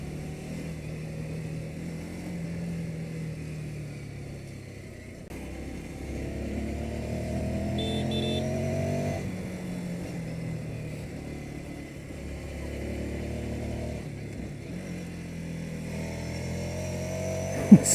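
A Ducati Scrambler Sixty2 motorcycle climbs a steep road in Kathmandu, its engine droning steadily and rising and falling in pitch through gear changes and throttle, heard from the rider's position over wind noise.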